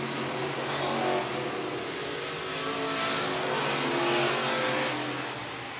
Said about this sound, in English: Crosscop getting to the back bumper at Jeremy Frenier as they work down the back straightaway